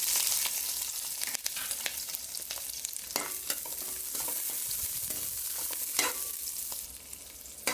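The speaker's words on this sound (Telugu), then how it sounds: "ఆయిల్లో ఉల్లిగడ్డ పచ్చిమిర్చి వేసుకుందాం" Onions and green chillies fry in oil in a wide pan for a fish curry, giving a steady, close sizzle with occasional stirring scrapes throughout, and no voices.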